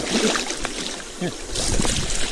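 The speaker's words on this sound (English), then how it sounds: "So I shall quiet myself now and have a moment listening to the sea." Sea water and current moving past a sailboat in Exuma Sound, a steady washing rush with wind buffeting the microphone and a brief swell of louder surf-like noise in the latter half.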